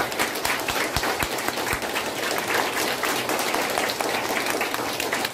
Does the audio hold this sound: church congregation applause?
yes